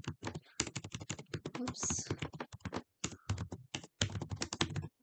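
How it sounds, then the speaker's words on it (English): Fingers type quickly on a computer keyboard while entering text in a document, making a close, rapid run of crisp key taps with short pauses, and a voice briefly speaks once. "I'm going to type in chapter 2"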